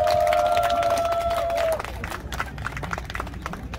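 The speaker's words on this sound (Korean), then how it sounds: "박수로 환영해 주시기 바랍니다" An outdoor festival crowd on a main stage at Jeongok Port welcomes a fusion nanta drum troupe of seniors with scattered clapping and light cheering, after a sustained tone fades out near the start.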